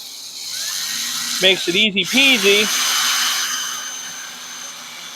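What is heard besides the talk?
power drill drilling holes in telescope rods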